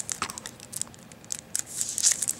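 Scissors snip and tear at Yu-Gi-Oh card box packaging up close, giving quiet, crisp crinkling cuts in short irregular bursts.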